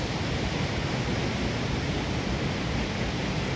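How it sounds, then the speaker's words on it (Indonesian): Air Terjun Pung Bunga waterfall in Maros pours in a loud, steady roar of rushing water, a dense continuous wash with no pauses, close by and alone. "Mari nikmati kesegaran air terjun Pumbungan, nikmati alam Pumbungan."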